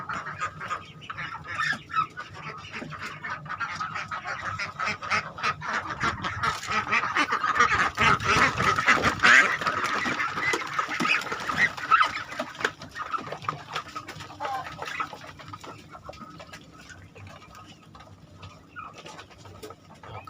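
A flock of farm ducks and geese quacks and honks continuously, close and fairly loud, with overlapping calls and no talking.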